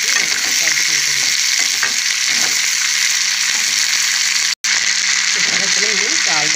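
Chopped ivy gourd pieces fry in a pan with a strong, constant sizzle and occasional stirring scrapes, close and loud, while someone talks over the cooking and a brief dropout cuts the sound near the end.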